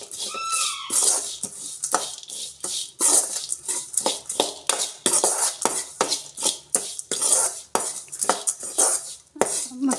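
Crushed peanuts and gram being stirred and roasted in a pan, with a spatula scraping and clinking against the metal in a steady, fairly loud rhythm of repeated strokes.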